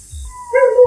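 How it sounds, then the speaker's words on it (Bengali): A dog barks within a narrated story, a single strained cry or bark that swells and holds near the end, following a low rumble, loud and close, with no talk over it. "কুকুরটা ডাকছে,"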